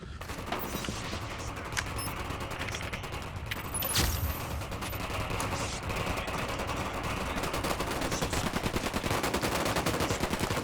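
Rapid gunfire in the video game Ghost Recon Wildlands, bursts of automatic weapon shots crackling steadily throughout, loud and close, with occasional voices in the background.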